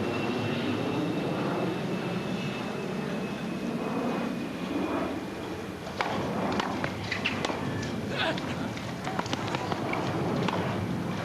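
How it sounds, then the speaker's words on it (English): A steady airplane roar drones in the distance over a 1998 tennis match between Krajicek and Rafter, with scattered light clatters and footfall-like knocks over it. "not to mention the aeroplane"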